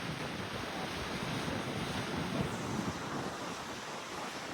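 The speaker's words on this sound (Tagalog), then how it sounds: "Saka malakas yung hangin dito" Strong wind sweeps the north shore of Aruba, a steady broadband roar mixed with crashing surf, continuous and loud throughout with no voices.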